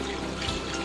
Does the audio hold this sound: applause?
no